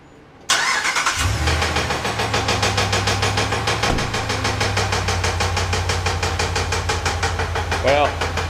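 A Ram 1500 pickup with warped exhaust manifolds, a heat shield delete, an exhaust leak and rod knock cranks and fires up, then settles into a loud, steady, close-up idle that runs continuously to the end.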